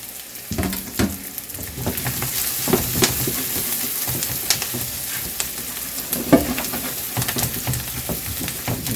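Diced garlic sizzles and crackles in a pot of classic chili with beans, a steady close frying hiss with scattered pops and stirring clatter, and no talking.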